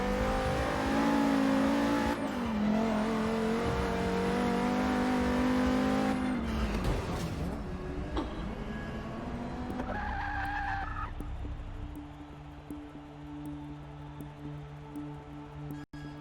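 Race cars in Forza 6 roar and skid, a loud revving drone with tire screech shifting into a steadier engine hum toward the end, no talking.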